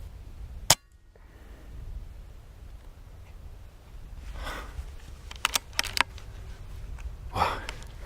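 An air gun fires at rabbits on a farm at night, a single sharp crack early on, followed by quiet outdoor background and a few faint clicks and rustles.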